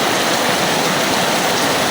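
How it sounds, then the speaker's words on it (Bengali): Heavy rain during a Kalbaishakhi storm pours down around a damaged village kitchen as a dense, steady hiss that stays loud and unbroken throughout, with no voices. "এমন বৃষ্টি আইছে চারিদিক দিয়া পানি পড়তেছে"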